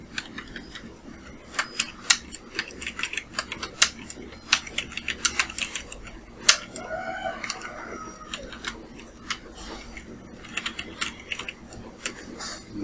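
Fingers type on a computer keyboard during poster design work in Photoshop, a dense, irregular stream of close, crisp key clicks with brief pauses and a few louder taps, no talk.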